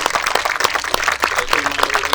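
An audience claps for the band at a live show, a brief burst of scattered, uneven hand claps with sharp individual hits.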